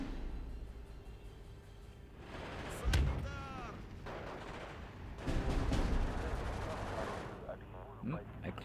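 Units in the Steel Division 2 video game open fire, with booming artillery-like blasts and bursts of gunfire rising over a low battlefield rumble, moderately distant, alongside someone talking.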